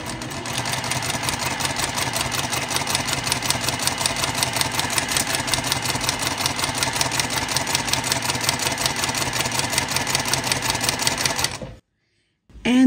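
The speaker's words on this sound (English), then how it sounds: "So I'm just going to begin sewing right at that very edge." Sewing machine stitching quilt block fabric pieces, a steady fast mechanical whir with rapid regular needle clatter running continuously for nearly twelve seconds, then stopping abruptly into near silence.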